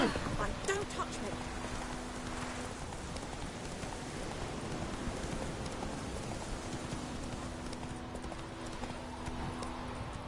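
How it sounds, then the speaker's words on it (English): Steady rain patters continuously beneath rhythmic horse hooves clip-clopping in The Witcher 3, with a faint tonal hum drifting in and out. "It's raining, it's pouring."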